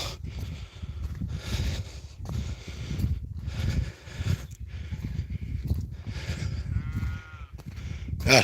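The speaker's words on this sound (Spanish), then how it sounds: "Ahí hay dos ovejas." Sheep bleat high in a mountain range in January, repeated calls from a couple of animals arriving in uneven bursts over a rough outdoor background, fairly close and moderately loud.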